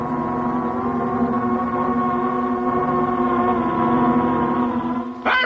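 An insect invasion swarm approaches in an anime, heard as a loud, sustained droning buzz with steady layered tones. It holds for several seconds, unbroken and without speech, then cuts off abruptly at the end.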